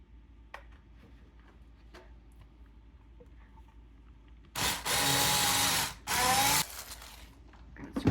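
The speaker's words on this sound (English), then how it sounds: "now I'm gonna mix the frosting" An electric mixer whips chocolate cream cheese frosting with a splash of whole milk for a devil's food cake, running in two loud bursts of about a second and a half each after quieter handling noise.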